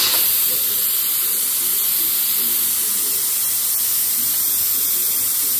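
A pressure cooker full of cooked beans vents its steam with a loud, steady, unbroken hiss that fills the whole moment, with no voices.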